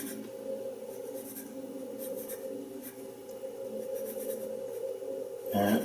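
Pencil sketching freehand on paper, a steady soft scratching that runs continuously and close, with a louder brushing scrape at the very end.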